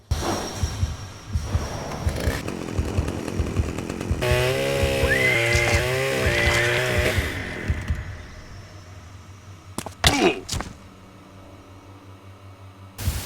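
Chainsaw revving in the video game Manhunt, a loud sustained buzzing snarl that rises and holds for several seconds, then cuts off, followed by sharp clattering impacts.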